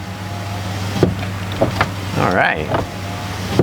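A power window motor on a 2003 Ford Explorer whirs up and down in brief runs with a rising pitch, punctuated by clicks and knocks, while someone speaks briefly nearby.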